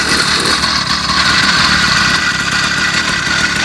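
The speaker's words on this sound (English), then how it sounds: "Alright guys, so we fixed the carburetor. You can see it's idling again." Small motorized bicycle engine idling steadily after a carburetor cleaning, a loud continuous buzzing drone close by with no speech.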